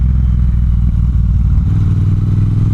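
A Triumph T120 motorcycle engine pulling from idle, a loud, close, low throbbing rumble that deepens and thickens partway through as it accelerates.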